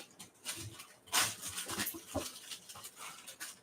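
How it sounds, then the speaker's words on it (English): A puppy whimpers and whines in short, high, uneven bursts, close and fairly faint, with soft panting breaths between cries; no talking. "I'm gonna go play with this puppy"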